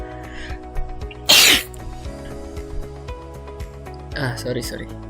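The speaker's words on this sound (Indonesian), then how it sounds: "Sorry saya bersin" A single loud, sharp sneeze bursts out early, close to the microphone, amid a man's ongoing speech over soft background music.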